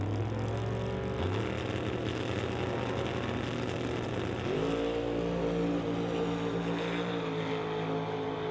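A Ford Falcon drag car roars down the strip, its engine note climbing through gear changes in loud, sustained revving bursts, with no voices over it.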